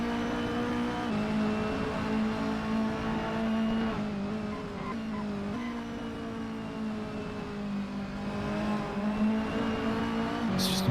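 Mini race cars race at Curitiba in the Assetto Corsa sim, several engines droning and shifting pitch steadily together for the whole stretch, with faint tyre scrubbing and a brief sharper squeal near the end.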